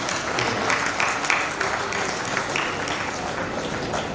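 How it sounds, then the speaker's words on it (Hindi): Applause from an audience at a book launch and birth-anniversary event, a steady dense wash of clapping that holds evenly for several seconds without a break. "हेमू, अरुणा, दर्शना और मनीषा, प्रियंका, रागिनी, उन सब के लिए जोरदार तालियां"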